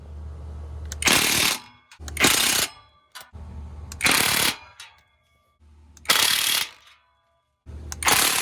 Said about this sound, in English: I'll go ahead and tighten up all the bolts now